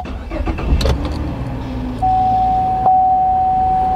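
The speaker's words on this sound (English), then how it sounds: "you go on ahead and start it up again" A fifth-generation Chevrolet Camaro cranks and fires up, the starter whirring before the engine catches and settles into a steady idle, with a single electronic chime tone sounding alongside.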